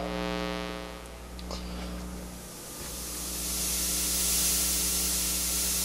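A printer's electromagnetic field, captured by a homemade EMF detector, starts as a buzzing electrical hum, then dissolves into a rising, fluctuating static hiss that swells and fades.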